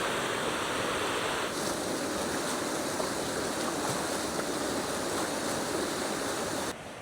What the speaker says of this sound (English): there's the runoff as it works its way off, and that is the start of the River Cocker